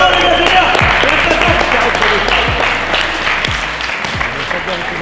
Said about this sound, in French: On applaudit pas mal, les gars